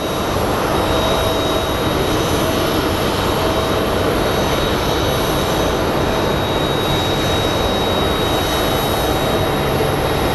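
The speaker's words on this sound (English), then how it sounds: "let's go take a look at our Southwest that's landing" A Southwest Airlines jet landing at Phoenix Sky Harbor airport, heard as a loud, steady engine roar that holds throughout without speech.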